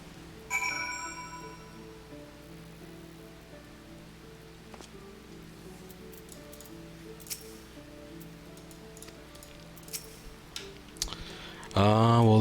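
Rain falls in the video game Final Fantasy XIV as a soft, steady patter with scattered ticks and drips, heard faintly under sustained background music tones.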